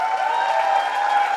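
Applause from guests at a wedding reception, a steady dense wash of clapping that holds evenly throughout.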